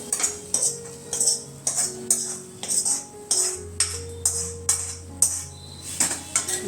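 Raw banana fry being stirred in an iron kadai, with repeated metallic scrapes and clinks of a spatula against the pan in a steady rhythm, close and fairly loud, with no talking.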